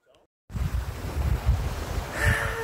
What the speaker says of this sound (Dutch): En nu weer aan zee.